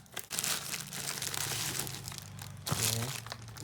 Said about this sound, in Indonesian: Dan mari kita coba unboxing ya.